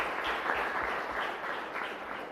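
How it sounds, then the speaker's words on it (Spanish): Congregation at a Catholic Mass in a chapel giving sustained applause, soft and somewhat distant, a steady wash of clapping with no talk over it. "A eso sí que un fuerte aplauso, más fuerte todavía, ¿verdad?"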